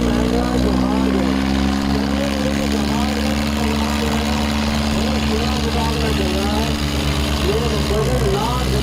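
A Mahindra 575 tractor engine idles close by with a steady, loud, low throbbing drone that holds constant throughout, while voices carry on over the engine.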